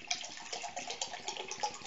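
Hand-drawn tap water splashes steadily as it is poured from one vessel into another container, a continuous close, moderately loud liquid gurgle with no talking.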